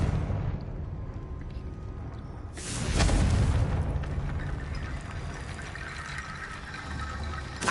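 In a wizard video game, a Confringo blasting spell explodes midway as a single loud, broad boom that fades into a rumbling tail over the steady background.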